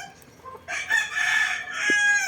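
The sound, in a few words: rooster crowing, chicken for sale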